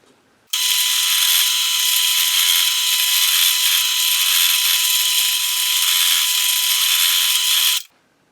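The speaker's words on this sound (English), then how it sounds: "I've set the depth stop on my drill to just over 2mm below the top surface." A power drill with its depth stop set to about 2mm whirs loudly and steadily for several seconds into a wooden guitar body, a high, even grinding whine that starts and stops abruptly.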